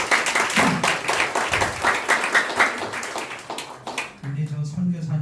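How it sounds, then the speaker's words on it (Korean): At a world mission forum, the audience gives a round of applause in a church setting. Distinct claps patter in an uneven rhythm for about four seconds, then fade out as a voice starts speaking. "박수 좀 주세요."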